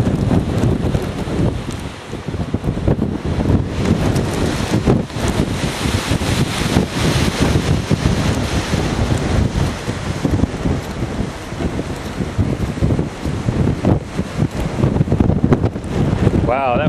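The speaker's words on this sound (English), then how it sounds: "Wow, that wind is really blowing hard, pushing me a little bit." Strong Hurricane Irene winds roar and buffet the microphone outdoors, a loud, continuous rushing blast that surges and gusts throughout.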